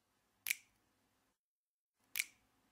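Two crisp finger snaps, close and clear, spaced well apart in near silence, each a sharp click with a brief decay.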